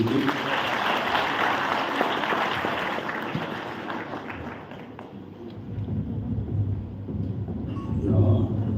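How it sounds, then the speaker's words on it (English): Applause from an event audience at a Kenyan AI hackathon award ceremony as the chief judge takes the stage, dense broadband clapping that fills the room for several seconds before thinning, with faint talk underneath. "Let's clap for him as he joins us."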